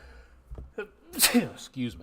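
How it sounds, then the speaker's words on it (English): A single sharp sneeze from a weather presenter bursts out, preceded by a short breathy intake, with brief voice sounds around it. "I think this is first or second time I've sneezed on camera."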